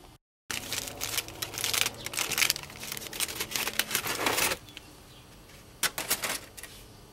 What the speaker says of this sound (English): I got the tape off.